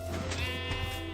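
A sheep in the Minecraft video game gives a short, close bleat that rises over a steady low game hum and background music, with no talking.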